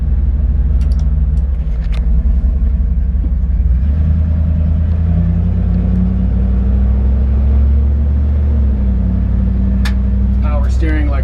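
A 1969 Dodge D100 pickup truck with power steering being driven, its engine a low steady rumble that rises slightly as it accelerates, heard from inside the cab beneath someone talking.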